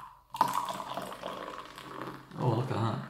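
Beer glugging and splashing as it is poured into a glass, a steady liquid fill with a louder foaming burst near the end, close up.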